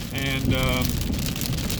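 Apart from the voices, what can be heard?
rain falling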